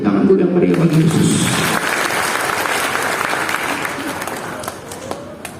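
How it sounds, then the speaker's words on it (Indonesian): Congregation applause in a church service, loud dense clapping that starts under a speaking voice, then continues on its own and gradually fades. "Tepuk tangan dulu yang meriah bagi Yesus."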